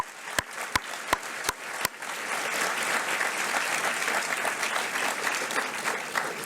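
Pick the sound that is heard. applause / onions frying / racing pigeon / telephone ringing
applause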